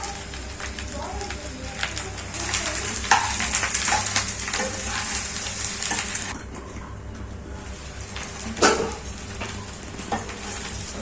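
Spicy Nellore-style karam chicken fry with curry leaves and masala powder sizzling and being stirred in a pan, a close crackling hiss with scraping stirs and brief pauses.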